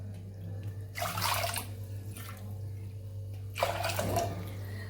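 Water splashes into a kitchen pressure cooker in three short pouring bursts over a steady low hum, fairly quiet and close.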